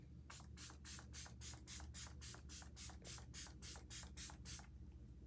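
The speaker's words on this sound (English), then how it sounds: "So first, I just do the setting spray." Rapid, evenly spaced pumps of a spray bottle hiss out fine mist, about a dozen quick soft bursts in a row.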